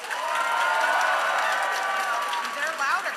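Improv comedy show audience applauding and cheering, a dense, steady wash of clapping with excited shouts and voices mixed in throughout, fairly loud and close.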